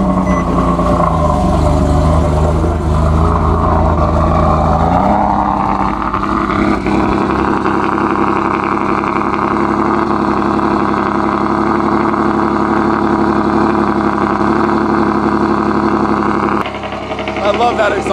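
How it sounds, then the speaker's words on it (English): Nissan 370Z NISMO cold start: the engine fires and settles from a loud low exhaust rumble into a steady high idle drone, close and continuous for most of the clip. "I do have to give you guys a cold start in this car because it sounds so good."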